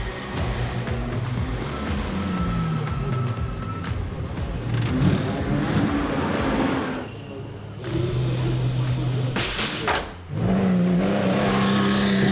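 Porsche 911 GT3 R race car on a race lap in an NLS endurance round, a loud, steady engine roar with shifting tones as it runs flat out, cutting briefly to a harsher, brighter burst and a short dip before resuming.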